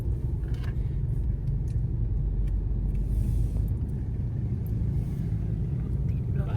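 Steady dense rumble of a night-time traffic jam on a Vientiane road, engines idling and vehicles crawling close by, continuous and fairly loud with faint higher noises scattered through it.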